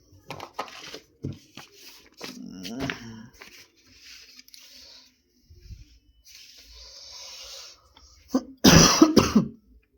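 Scattered soft noises and faint speech, then a loud burst of harsh coughing near the end, close by.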